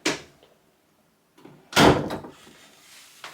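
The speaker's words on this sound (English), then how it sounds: "Let's shut the door." An indoor door is pushed shut with a fairly loud thud after a quiet pause, set among cats in a home recovering from dental extractions; brief clatter and faint movement follow.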